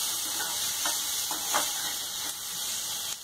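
Mixed vegetables and tomatoes stir-frying over a medium flame for leftover chapati noodles, producing a steady hiss and sizzle with occasional stirring scrapes and no speech.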